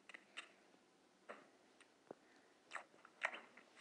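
Biting into and chewing a strawberry, with soft, scattered wet crunches and mouth clicks at close range against quiet background.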